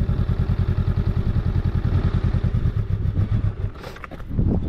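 A Honda Rebel 500 motorcycle idles and then pulls away in first gear with a steady, close, rhythmic engine thump, fading slightly as it moves off near the end.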